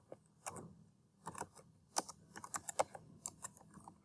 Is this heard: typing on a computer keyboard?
yes